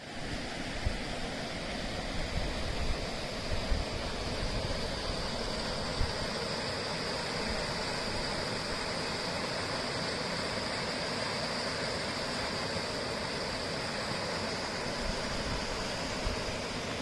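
A waterfall on the Somvati river near Champawat, where it meets the Gandak, gives a steady, close, full rushing roar that stays unbroken throughout with no voices.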